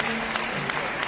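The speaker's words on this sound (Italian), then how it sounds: "Un applauso a tutto il pubblico," A tennis crowd applauds after a Challenger doubles final in Bergamo, dense clapping sustained throughout the short moment.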